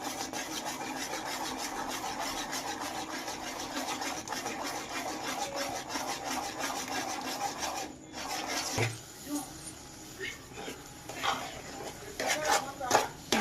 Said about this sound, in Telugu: తర్వాత చోడిపిండిని కొంచెం కొంచెం వేస్తూ ఇలా కలుపుకుంటూ ఉండాలి.